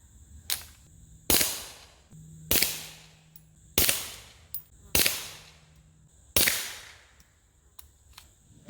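A Ruger Mark IV 22/45 pistol fires CCI Mini Mag 36 grain copper plated hollow point .22 rounds: six sharp, close cracks spaced about a second apart, each trailing off in echo, with no talk.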